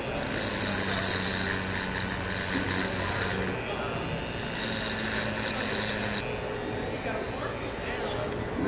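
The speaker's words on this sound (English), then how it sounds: "we have to remove these loose parts of material with the Dremel" A Dremel rotary tool with a diamond bit grinds loose material from damaged stone in two loud, whining bursts of a few seconds each, separated by a short pause.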